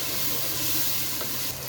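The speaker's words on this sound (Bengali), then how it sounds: "এখন দিয়ে দিচ্ছি আদা রসুন" Ginger garlic paste hits frying onions for chicken biryani, giving a steady, close hiss of sizzling oil that holds evenly throughout, with a soft stirring shuffle underneath.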